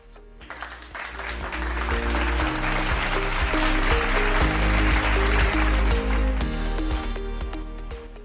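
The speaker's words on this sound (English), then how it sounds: "Let us give a warm round of applause for Mayor D." An audience gives a warm round of applause at a congress event, the clapping swelling quickly and holding as a steady dense wash for several seconds before easing, with tonal music running underneath.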